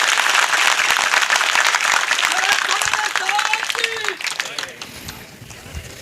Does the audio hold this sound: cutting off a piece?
no